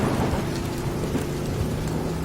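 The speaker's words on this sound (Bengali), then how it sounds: "দূরে কোথাও যেন বাজ পড়ার শব্দ হলো" Heavy stormy rain pours down steadily, with low rumbles of thunder rolling in the distance throughout, and no voices.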